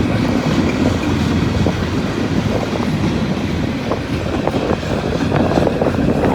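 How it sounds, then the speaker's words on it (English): A long freight train of empty steel coil cars rolls past on a windy day, a loud, continuous rumble with irregular wheel clicks and rattles, close by, with wind buffeting the microphone. "this is a never-ending train here"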